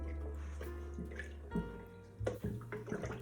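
Water pours into a bowl of party punch made with lemon juice and grenadine, giving a few short splashing bursts, close by, over a low steady hum.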